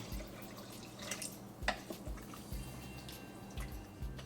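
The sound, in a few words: water being poured into Instant Pot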